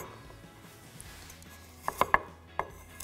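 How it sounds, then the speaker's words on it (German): A washed carrot cut with a Damascus knife on a board makes a few sharp, crisp chops close up after a quiet start, about five distinct cuts, with no voices. "Jetzt schneide ich die Karotte oder Möhre mit dem Damastmesser."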